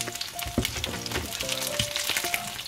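Chicken liver kebab fries in a pan, Dhaka street-food style, giving a busy close sizzle with spitting pops and crackles, accompanied by faint tonal clinks and no talking.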